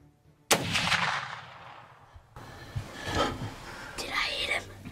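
A single loud rifle shot cracks out at a deer during a hunt, followed by a second blast a couple of seconds later, with hushed whispering voices around them.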